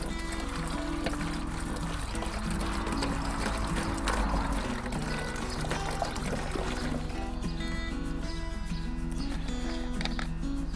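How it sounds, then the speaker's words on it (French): Liquid nettle manure pours steadily from a bottle into a watering can, a soft continuous trickle and gurgle at close range, fairly quiet throughout. "maintenant, donc je vais transférer cette bouteille directement dans l'arrosoir."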